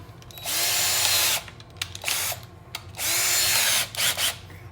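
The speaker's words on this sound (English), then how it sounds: "we've got our 5/32 drill bit" A power drill fitted with a 5/32-inch bit whirs in two long bursts of about a second each, with quieter gaps and a few short revs between them.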